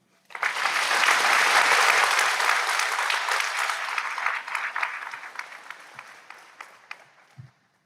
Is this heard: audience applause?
yes